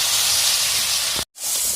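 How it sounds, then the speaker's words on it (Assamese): Banana flower and potato hitting a hot pan, a loud, dense hiss of sizzling broken by a sudden brief silence before the sizzling resumes. "এতিয়া মই ইয়াতে কলডিলখিনি দি দিওঁ"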